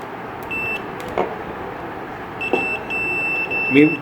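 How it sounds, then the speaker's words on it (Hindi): A multimeter set to continuity gives steady high beeps while its probes test a double-door fridge compressor, two sustained tones with brief clicks of probe contact, heard under someone talking. "पहले आपको वहाँ रखना है प्रोब जहाँ पे पेंट ना हो, पहले बीप मिलनी चाहिए।"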